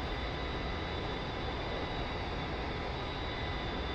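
Steady, loud engine roar and hiss inside the cockpit of an A-10C aircraft in DCS World, a constant broadband drone with a faint high whine and no variation or voices.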